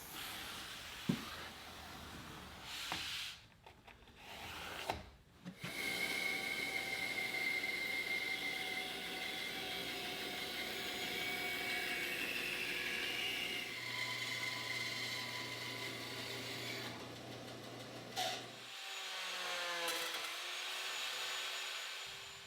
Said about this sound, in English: I'll trace it and then make this cut heavy using the bandsaw